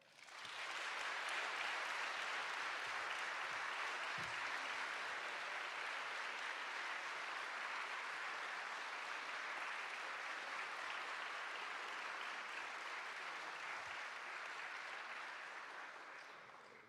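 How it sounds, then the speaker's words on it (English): Sustained applause from a lecture audience in the Grand Hall, a dense steady wash of clapping holding for about sixteen seconds before thinning slightly at the end, with no talk over it. "perhaps we might give a thunderous round of applause"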